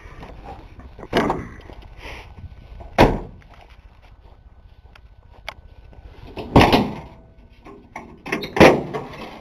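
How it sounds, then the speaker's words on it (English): Several sharp metallic clunks and thumps spaced a few seconds apart as the hood latch of a 1962 Ford Falcon is released and the hood lifted, with quiet shuffling between. "I'll pop the hood and show you."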